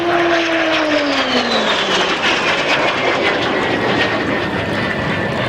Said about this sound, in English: Lovely sound of the de Havilland Goblin engine.